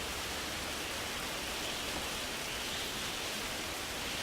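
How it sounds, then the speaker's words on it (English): Steady rain falls in the prison-building video game Prison Architect, an even, dense hiss of broadband noise that stays constant and fairly loud throughout, with no talking. "the rain is very loud in my ear"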